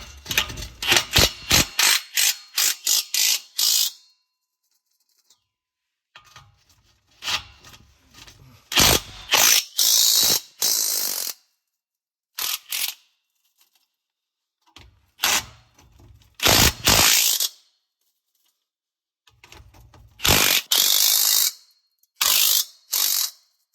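A ratchet wrench loosens the two 16mm bolts on a resonator delete clamp during a Mk8 GTI exhaust install, rapid clicking bursts separated by silent gaps, close and crisp.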